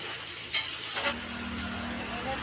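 Country chicken curry sautéed in a pan gives a low continuous sizzle and stir, with a couple of sharp scraping accents early on and a faint steady hum underneath.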